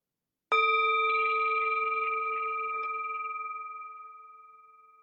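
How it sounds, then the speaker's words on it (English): A single strike of a meditation bell, a clear sustained ring with steady overtones that slowly fades over several seconds in a quiet room with no voices. "The sound of the bell returns us to our true home."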